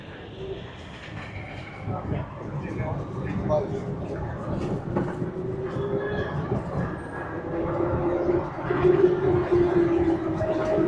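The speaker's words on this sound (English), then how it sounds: "It's the trains." Trains rolling through a Lisbon street, a steady low rumble with rising metallic squeal toward the end, passing under people talking nearby.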